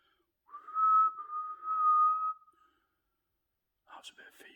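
A person whistles a steady, sustained tone in a quiet churchyard, a soft but clear whistle held for about two seconds, followed by brief faint sounds.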